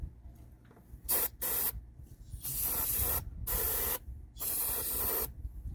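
Several hissing bursts from a spray can into a small engine being diagnosed, each lasting about half a second to a second, separated by brief pauses over a low rumbling background.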